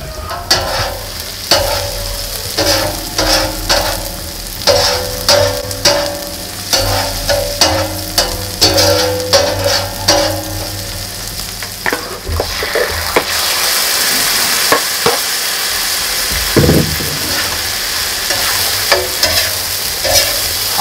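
Thawed frozen chicken cut into small pieces fries on a griddle, giving a steady sizzle broken by repeated scraping and clattering strokes of a utensil stirring the meat, close and fairly loud, with no talk.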